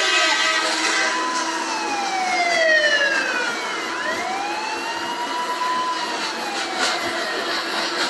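A train moving along its line, heard loud and steady for the whole stretch, with long whining tones that sweep and bend in pitch over a constant rushing roar.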